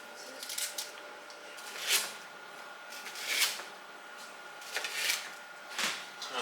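A knife cuts vegetables being prepped for oiling, seasoning and roasting, giving a series of crisp, separate slicing strokes about every second or so. The strokes are fairly quiet and close, with no talking.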